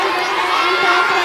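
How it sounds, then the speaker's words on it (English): Schoolchildren shout and cheer for their coloured house teams at a school's annual sports day, a dense crowd roar that holds steady and fairly close throughout. "Come on, cheer up your group."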